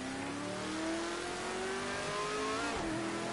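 A vintage Ford Mark IV race car in a racing game at Spa holds a steady, loud engine drone that climbs in pitch, then drops and wavers near the end as the car spins off onto the grass.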